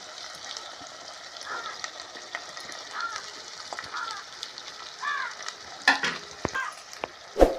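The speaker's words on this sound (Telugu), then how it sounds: "టమాటా మగ్గిపోయింది చేప ముక్కలు వేసుకుందామండి" Fish pieces frying in a pan of cooked-down tomato for Andhra koramenu iguru, a soft, crackly sizzle with scattered pops and a few louder clatters near the end.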